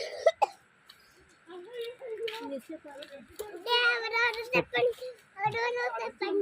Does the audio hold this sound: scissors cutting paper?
no